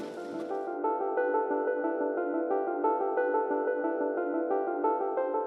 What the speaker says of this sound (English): To be precise, it's the sound of euro banknotes being produced.